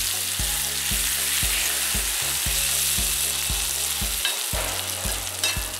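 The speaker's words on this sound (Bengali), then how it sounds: "গরম তেলে মশলা মাখানো পেঁয়াজটা দিয়ে নেড়ে চেড়ে 1 মিনিট ভেজে নিতে হবে।" Onion coated in spices sizzling in hot mustard oil on a griddle over a medium flame, a loud continuous hiss and crackle with a regular low rhythmic thumping running underneath.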